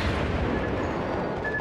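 Warship guns firing in World of Warships, heard as a dense, continuous low rumble of heavy gunfire and blasts with no clear gaps, loud and close.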